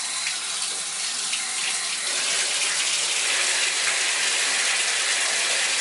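Water gushes from a tap into a bathtub, a loud continuous hissing rush that grows slightly fuller partway through, with no voices.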